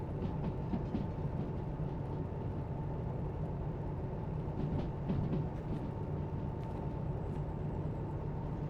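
A long freight train rolls steadily along the rails in the train-driving game Derail Valley, giving a continuous loud rumble with scattered clanks and squeals, with no speech over it.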